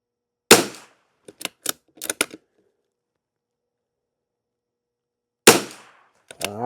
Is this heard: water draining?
no